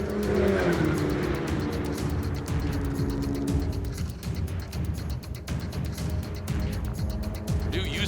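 Autonomous race cars pass on a track at CES, their engines roaring loudly past and fading, with a brief tire squeal, while faint commentary runs underneath.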